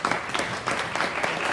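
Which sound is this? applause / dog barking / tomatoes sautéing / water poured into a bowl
applause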